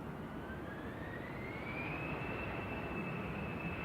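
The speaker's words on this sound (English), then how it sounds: "CityJet departing for SAS back to Copenhagen. This is EIGEA with flight 540, it's a CRJ 900." A CityJet CRJ 900 regional jet departs Manchester Airport, a faint, distant, steady jet roar with a thin whine slowly rising in pitch, no voices.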